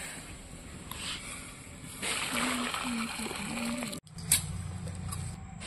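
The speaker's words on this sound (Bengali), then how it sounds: "তারপরে গরম জলটা দেব।" Hot water is poured from a vessel into a bowl holding stingray fish, a rushing, splashing pour that swells midway and cuts off sharply. A voice speaks through part of it.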